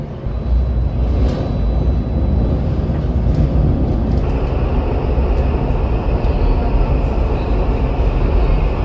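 Barcelona metro line 10 train running on a two-track underground section, a loud steady rumble and roar of wheels on rail with faint higher squeals, continuous throughout with no talk.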